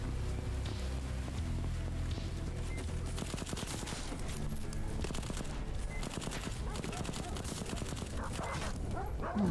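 Dogs bark and yip in a brutal first-person shooter game, mixed with bursts of gunfire and machine-gun fusillades throughout, with a player's voice talking over the steady, dense battle noise.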